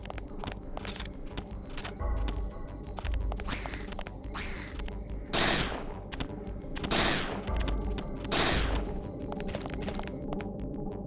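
Gunfire in the survival horror game Parasite Eve II, a steady run of repeated shots with several louder bursts over a continuous background hum.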